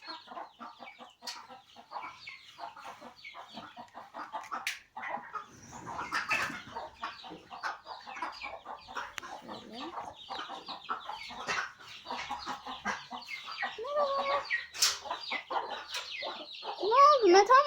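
Several chickens cluck and squawk close by in a coop, a busy, continuous farmyard chatter with occasional louder calls and some rustling.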